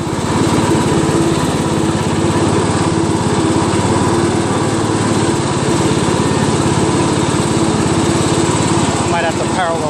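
A Craftsman LT1000 lawn tractor engine runs steadily close by, a loud, constant buzzing drone with an even throb, while someone talks over it.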